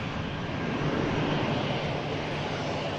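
An airliner taxis toward runway 23 left at Manchester Airport for departure, producing a loud, steady broadband jet rumble and hiss that holds constant throughout without a break.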